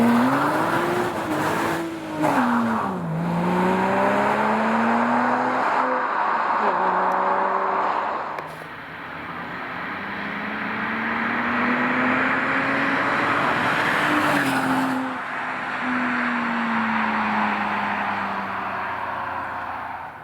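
A Porsche Boxster S sports car driving, its engine note rising and falling through gear changes with steady road and wind noise, heard from inside the cabin for a sustained stretch without talk.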